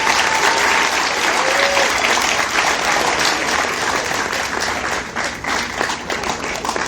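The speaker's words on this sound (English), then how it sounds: "How about one more thunderous round of applause for all these guys up here tonight?" Audience at a hypnotist show aboard a cruise ship gives a loud, thunderous round of applause, dense clapping continuing throughout and thinning slightly toward the end.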